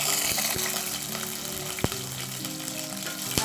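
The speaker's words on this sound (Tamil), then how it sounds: "நல்லெண்ணெய் சேர்த்துட்டு பூண்டு சேர்த்துக்கணும்." Garlic fries in sesame oil in a kadai with a steady, close sizzle and a few sharp pops and clicks over the hiss.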